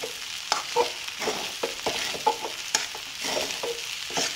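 Sabudana khichdi with peanuts and potato is stir-fried in a pan: a soft, steady sizzle broken by a spatula scraping and tossing at a loose, repeated rhythm, close up and with no talking.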